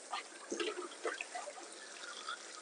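Turnip greens being rinsed in a basin of water, with soft, faint splashes and sloshing bursts recurring a few times at close range and no talking.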